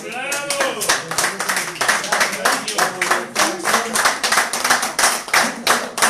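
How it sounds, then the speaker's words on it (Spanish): An audience gives a lawyer speaker a warm round of applause at a constitutional talk, steady clapping throughout, with voices and cheers mixed in over it. "queremos agradecerle con un gran aplauso"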